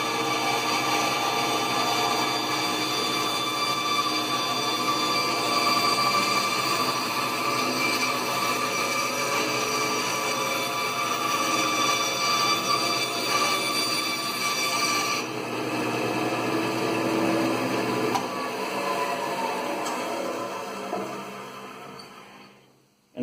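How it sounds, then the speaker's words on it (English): A bandsaw cutting a curve in wood, a steady loud whine with a dense buzzing tone running close and continuous before easing off at the end, with no talk. "that allows me to make a curved cut with the bandsaw"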